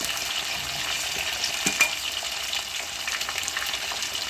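Garlic sizzles steadily in a hot pan with oil, a constant close frying hiss with light stirring scrapes and a brief louder clatter near the middle, no talking.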